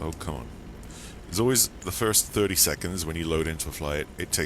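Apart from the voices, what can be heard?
No distinct noise like a dog, phone or traffic.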